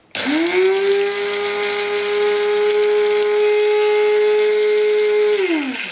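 Sinbo electric coffee grinder grinding coffee beans, a loud steady high-pitched motor whine that spins up abruptly, holds evenly for about five seconds, then winds down, close and alone.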